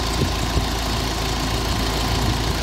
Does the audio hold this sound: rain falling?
no